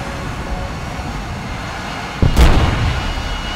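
A guided bomb (GBU) detonates in War Thunder air-to-ground play: a single sudden broadband blast with a low rumbling tail, rising out of steady engine and ambient game noise.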